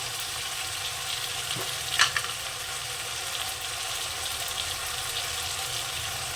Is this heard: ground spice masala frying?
yes